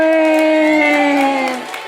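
An audience at an Indonesian Islamic lecture on santri life cheers and calls out in a sustained, voiced swell that holds steady and then tapers off over about two seconds.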